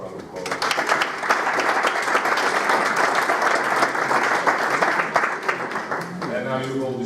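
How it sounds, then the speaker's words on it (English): Conference attendees give session speakers on sports governance a final round of applause, a full, steady burst of clapping from a large room that fades as a voice returns at the end. "maybe we can give them a last round of applause"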